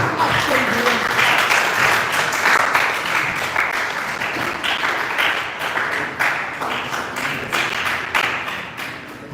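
An audience at a mental health awareness foundation event breaks into lively applause for a speaker coming to the stage, the clapping dense and sustained, gradually thinning toward the end.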